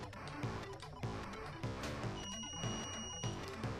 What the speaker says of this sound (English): Hear that alarm go off.